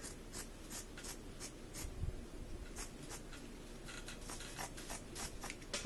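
Scissors cut through fabric for a handmade vest, giving short crisp snips and rasping slides repeated in quick irregular bursts close by, with no talking.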